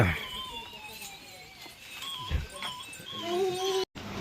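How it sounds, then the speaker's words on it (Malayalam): A puppy whimpers and yips in thin, high cries, mixed with a person talking nearby. "നമ്മളെ നായ്ക്കുട്ടി നമ്മളെയും കാത്ത്"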